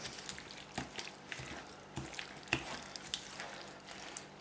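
Spinach wilts in a frying pan while being stirred, giving a quiet, crackly sizzle with soft scraping and clinks from the spoon, faint and close.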